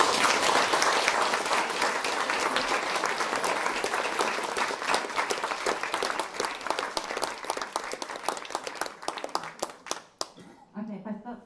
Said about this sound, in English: I think we should definitely give them a big round of applause.